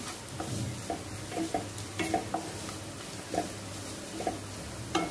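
Squid coated in Malvani masala, red chili powder and garam masala is sautéed in a pan. A steady sizzle runs under repeated short scraping stirs, and no voices are heard.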